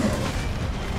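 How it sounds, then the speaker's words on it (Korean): Explosion during a Behemoth fight in Monster Hunter: World, a deep, sustained booming rumble filling the whole second at steady loudness with no pause. "아하, 폭발!"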